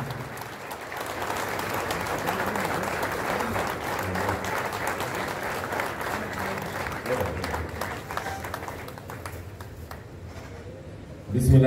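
Sustained crowd applause and cheering at a political rally launching Mohsin Dawar's new National Democratic Movement party, loud and steady throughout, with voices mixed into the clapping before it cuts off.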